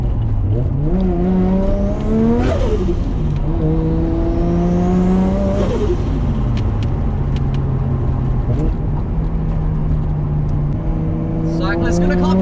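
A Nissan Skyline R33 with an RB25DET engine revs hard through several rising, gear-shift-like pulls, a loud close roar with pitch climbing and dropping repeatedly, voices faintly audible underneath.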